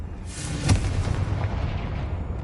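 A Confringo spell blast in Hogwarts Legacy lands as a single sharp boom with a rolling, rumbling tail that fades out slowly, with no voices over it.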